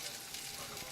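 Beef, deer or chicken taco meat sizzles in a hot pan, a steady close hiss of frying with small crackles throughout.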